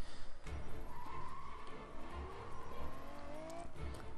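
Car engine and tire skids in the video game 007 Bloodstone: a steady motor drone with rising whine and squealing slides, mixed with game noise and brief thumps.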